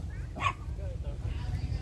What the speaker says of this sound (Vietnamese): Tôi gặp khách nó mừng quá nó sủa.